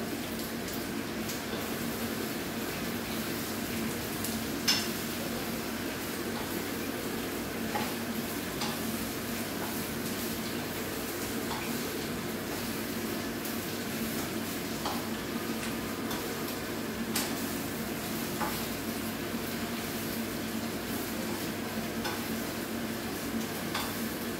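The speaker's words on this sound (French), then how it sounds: "On va laisser revenir un peu notre viande avec nos oignons dans les pommes de terre" Meat, onions and potatoes stirred in a pan, a steady soft sizzle with faint scraping and occasional clicks of the utensil, quiet and continuous with no talking.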